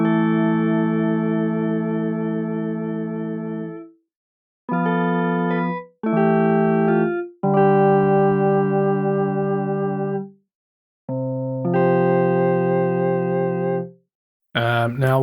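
Synthesizer notes ring out as sustained, harmonically rich chords separated by short pauses, each tail softened by a small-room reverb.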